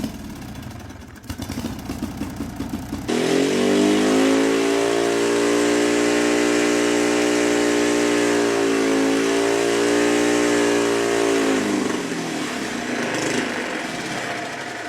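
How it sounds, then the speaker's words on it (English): A turbocharged engine on a modification rig cranks roughly, then catches and holds a loud, steady roar. Its pitch dips and rises once in the middle, and the sound fades away near the end. Nobody talks. "start this thing up, see how much boost can actually make without that large boost leak"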